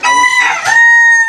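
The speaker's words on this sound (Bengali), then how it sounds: "এদিকে মোরগ ডাকতে আছে" A rooster crows loudly and close by, one full drawn-out call with a rising start and a long sustained ending.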